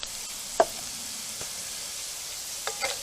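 Crispy potatoes frying in oil give a soft, steady sizzle, faint and close, broken by a few sharp clicks and pops, with no talking.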